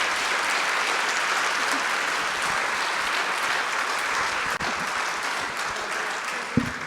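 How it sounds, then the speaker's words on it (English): A conference audience applauds at the EMYA2025 annual conference, a dense, even wash of clapping that continues steadily for about seven seconds, with no talk over it. "Give them a round of applause"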